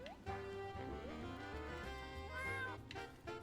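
A cat in the video game Escape from Ever After gives a string of drawn-out, pitch-bending meows, several in a row, clear and up close with no talk over them.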